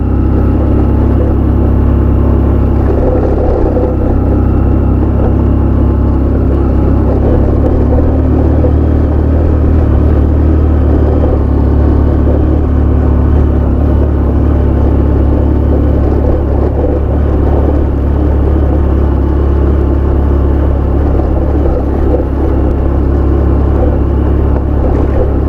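A 100cc motorbike engine labours up the road to Chang La pass in Ladakh. Its loud, steady, low rumble continues without a break, mixed with wind and road roar.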